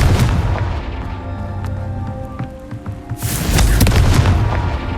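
A Confringo spell explodes in Hogwarts Legacy with a deep, loud boom, then a second heavy burst with crackling debris that lingers over a low rumbling game soundtrack.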